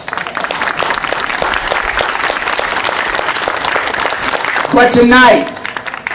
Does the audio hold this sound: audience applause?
yes